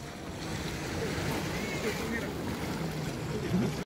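Sea waves wash onto a beach in Korea, a steady broadband surf rush with wind noise on the microphone, fairly faint, while people talk and call out nearby.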